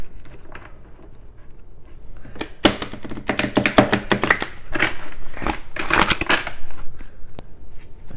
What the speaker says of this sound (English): Let me give these cards a pretty good shuffle.